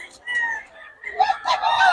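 A rooster crows loudly and close by, two rising and falling calls with a brief pause between them.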